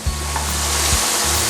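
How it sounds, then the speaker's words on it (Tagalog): Pork pieces sizzle and crackle steadily in hot frying oil, a continuous close hiss with a brief stir partway through. "Fry natin yung ating natitirang pork."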